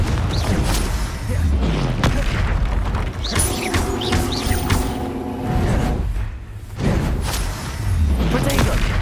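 Fiery Confringo spell blasts from Hogwarts Legacy, a series of loud booming bursts and whooshes over dense game background, with a sustained tonal rumble in the middle and a brief quieter gap before the noise returns.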